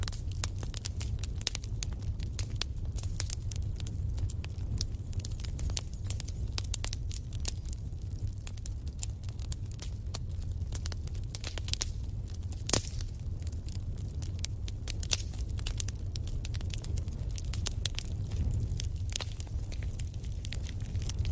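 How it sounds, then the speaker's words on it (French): A wood fire crackles steadily for over twenty seconds, with dense small pops and occasional sharper snaps over a low soft rumble, close and fairly quiet, with no voices. "Le son du feu qui crépite a quelque chose de réconfortant."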